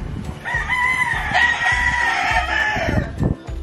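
Native Jolojano and Basilan free-range chickens crowd together on a farm yard, with a loud, drawn-out crow or cackle in the foreground over a lower scatter of clucks from the flock.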